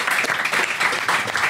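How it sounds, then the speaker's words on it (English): Live audience at a Camden Fringe comedy show giving a round of applause for Macbot, a dense, even burst of many hands clapping, close and continuous. "Good round of applause for Macbot."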